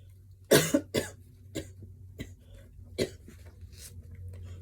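A close coughing fit: one heavy cough followed by several smaller, spaced coughs, fading toward the end.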